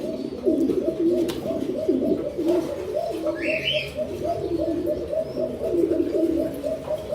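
Fancy pigeons at a pigeon farm coo in a continuous overlapping chorus of low, rolling calls, with a short chirp above them and faint background sounds.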